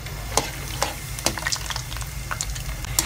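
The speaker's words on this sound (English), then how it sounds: "Goringkan kacang tanah ni dulu." Groundnuts fry in hot oil with a steady broadband sizzle, marked by sharp crackling pops that come about every half second, close and fairly loud, with no talking.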